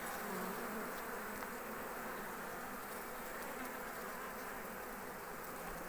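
A Varroa-free honeybee hive with larvae and capped brood hums with a dense, steady buzz of many bees, continuous and close throughout with no voices.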